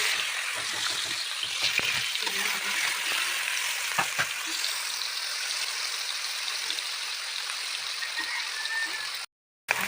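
Onion and garlic fry in mustard oil with panch phoron and a dried red chili, giving a steady close sizzle broken by small pops and crackles, then a short silent gap near the end.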